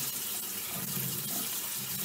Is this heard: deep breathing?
no